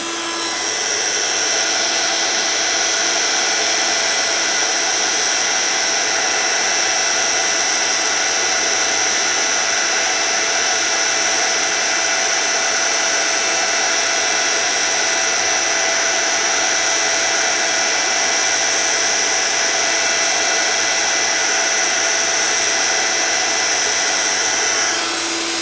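A heat gun blows continuously and loudly for the whole stretch, a steady whirring fan hiss with a high tonal whine, used to heat-set white embossing powder on a stamped craft design.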